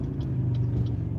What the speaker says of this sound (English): pause, let this car go by